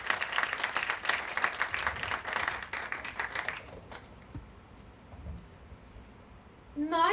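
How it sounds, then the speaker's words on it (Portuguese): An audience at a talk on traditional art in the digital age breaks into dense applause that fades after a few seconds, leaving quiet room tone and a final short noise. "Uma salva de palmas."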